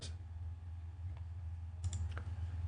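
Mouse clicks on a computer while selecting and exporting documents in accounting software, a few faint isolated clicks spaced out over quiet background hum.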